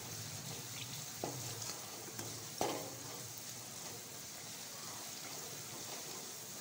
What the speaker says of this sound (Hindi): हम सारे मसालों को 3 से 4 मिनट तक लो फ्लेम पे भूनेंगे।